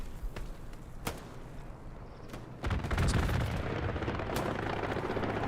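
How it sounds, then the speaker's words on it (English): Rockets streak in and impact during a multiplayer video game battle, a sharp blast near the start followed by a heavy, sustained rumble of incoming fire and explosions that swells loud midway and keeps roaring. "Oh damn, the rockets flying in."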